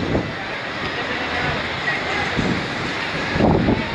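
Steady wind and surf from the Caribbean Sea on the Puerto Rico coast, a constant broadband rush with brief voices surfacing near the end.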